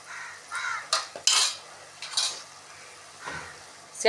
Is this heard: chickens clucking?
no